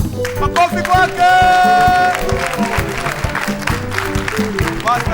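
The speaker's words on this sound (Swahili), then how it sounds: "Jina yake ni Pastor Maina. Makofi kwake." An audience claps to welcome Pastor Maina onto a show about hawkers. The applause sits under music and a loud speaking voice, with a rise of clapping and crowd noise partway through.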